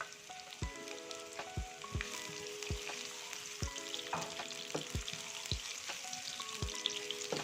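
Shallot fries in a pan for spaghetti aglio olio with a bright, crackling sizzle, while sharp metallic taps from a utensil ring out at regular intervals over it, close and without speech.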